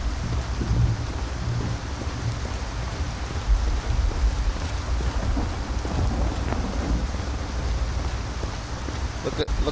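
Steady rain pours with low rumbling thunder in a video game, a continuous soft wash of drops under occasional quiet talk.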